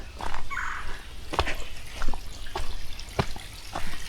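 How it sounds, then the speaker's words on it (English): Water splashing and trickling over a small waterfall right beside a hiking trail in a springs natural area, a close, uneven patter of drips and splashes with no one speaking. "if it's water falling over it, it's a waterfall."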